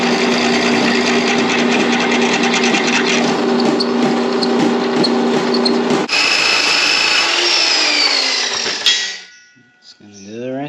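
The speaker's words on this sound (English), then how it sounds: "Thankfully, I can drill everything else on the drill press." Drill press boring into metal parts of an old gate, a loud continuous motor whine with grinding cutting noise, changing pitch partway through and winding down near the end.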